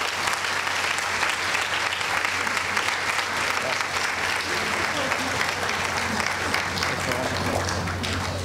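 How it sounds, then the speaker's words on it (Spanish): An audience at an International Women's Day award ceremony applauds loudly and steadily, dense continuous clapping that fills the room without a break from start to finish. "Un aplauso muy fuerte, por favor"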